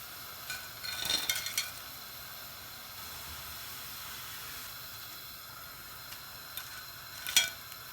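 Potato koftas frying in hot oil for a dhaba-style aloo kofta curry, giving a faint, steady sizzle and hiss with a few brief louder bursts of bubbling and stirring, no voices.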